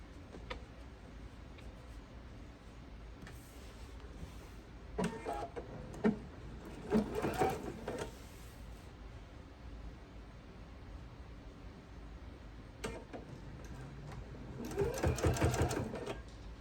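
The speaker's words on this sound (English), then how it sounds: "I'm just going to flip this up and sew it to the front side" A sewing machine stitches the flipped-up band of a homemade oven mitt onto its front side, whirring in short bursts separated by pauses, loudest near the end.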